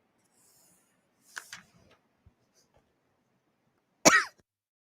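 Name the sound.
cough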